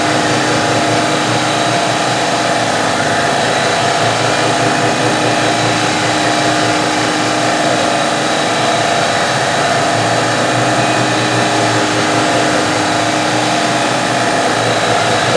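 A lathe machines a Losi wheel adapter, giving a loud, steady mechanical whir and broadband roar that holds constant and close throughout, with no speech.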